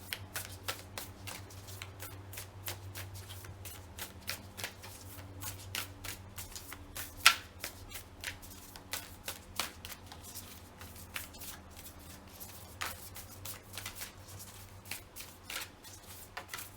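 An oracle deck is shuffled by hand for a long stretch, making soft, quick riffling and snapping card sounds with a steady rhythm over faint low background hum.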